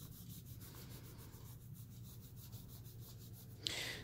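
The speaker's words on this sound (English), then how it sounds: "I can rub all over it." Something rubs steadily over an art surface with a soft, continuous scuffing close by, followed by a brief brighter scrape near the end, with no talking.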